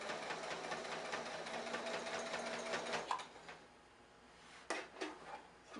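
A sewing machine stitches a T-shirt pillow, a steady whirring run of about three seconds, then a pause and a few short back-stitching bursts near the end. No one speaks.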